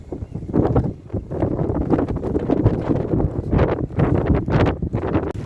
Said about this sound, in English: the wind and rain is coming down heavy